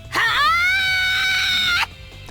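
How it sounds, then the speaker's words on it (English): Rondo, a character in a visual novel game, letting out a single loud, sustained scream that rises sharply, holds strong and steady for nearly two seconds, then cuts off abruptly. "Rondo screams as if to throw all of her body and soul at the enemy"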